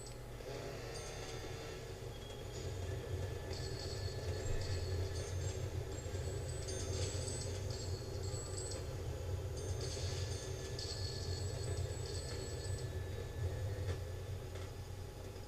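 A video game train rumbles steadily along with continuous clattering and faint high squeals, a constant mechanical drone throughout; no voices.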